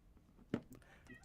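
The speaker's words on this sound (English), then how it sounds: "Oh, mine's meowing behind me." A house cat gives one short meow behind a person, faint and brief, with a little soft background sound around it.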